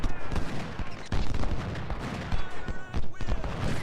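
Musket volleys crackle and boom across a Civil War battlefield at Chantilly in the strategy game Ultimate General: Civil War, a dense, loud, continuous fusillade with sharp shot transients.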